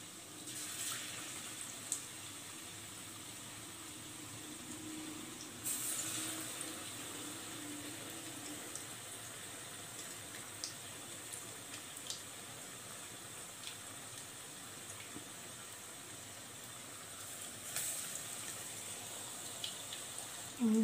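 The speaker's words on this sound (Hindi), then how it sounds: "थोड़े से मीडियम ऑयल में हम इसको डालेंगे।" Bread pakora frying in medium-hot oil, a faint steady hiss and bubbling that continues evenly throughout, with occasional small clicks of handling.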